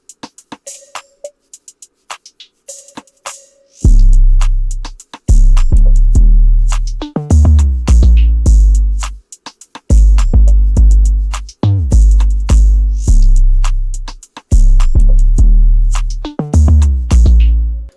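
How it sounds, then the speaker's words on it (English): Programmed drum pattern from a beat made in FL Studio, heard dry and alone: sparse light hits at first, then heavy booming kicks with crisp snares and hi-hats in a steady repeating groove. "So then for the drums, here's what they sound like on their own."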